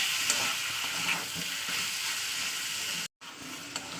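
Ginger and garlic spice paste fries in a pan for a chicken and cabbage curry, a steady close sizzle that cuts out for a moment and then resumes, with no talking.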